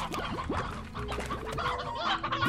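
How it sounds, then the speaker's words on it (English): Dense chicken clucking from many fowl at once in the video game Slime Rancher, a busy overlapping chorus of clucks and short squawks, close and continuous with no talk. "I have so many chickens."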